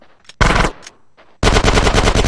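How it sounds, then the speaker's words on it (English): A GTA San Andreas shootout: a loud, close short burst of gunfire, a pause with fainter shots, then sustained rapid automatic fire, without talking. "Right, now I've got to shoot my way out of it."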